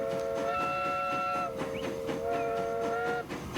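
A train in Transport Fever 2 runs on newly laid track, its chord-like whistle sounding in long sustained blasts over a steady rumble and faint rhythmic clatter of wheels.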